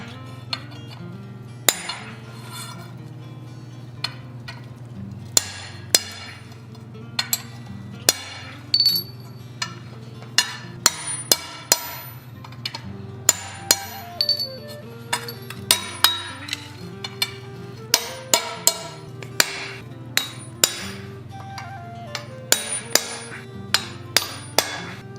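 Blacksmith hammering a punch through hot metal on an anvil for an owl pendant, a long series of sharp ringing metallic strikes, spaced unevenly and sometimes in quick pairs, loud and close over a low background hum.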